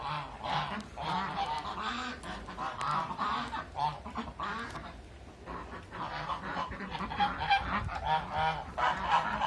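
A flock of geese honks continuously and loudly at close range in a farmyard with ducks around a freshly filled water pool, overlapping calls forming a dense, restless chorus.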